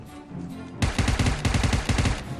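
Rapid bursts of automatic gunfire from the mobile battle royale game PUBG Mobile, a loud string of sharp shots rattling off after a brief quieter lead-in, close and alone.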